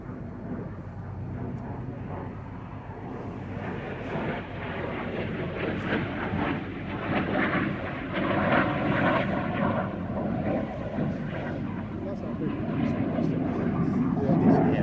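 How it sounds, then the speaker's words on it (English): A Canadair-built CL-13B Sabre Mark VI jet fighter roars steadily overhead, a loud, continuous broadband rumble that swells slightly as it goes on, with faint voices underneath. "this example, a CL-13B Sabre Mark VI built by Canadair, has all of those refinements and more"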